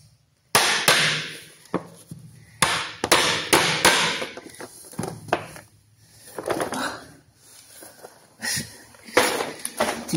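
Sharp hammer blows ring out in irregular bursts as baseboard is fitted in a garage, some in quick runs and others spaced apart, loud and close.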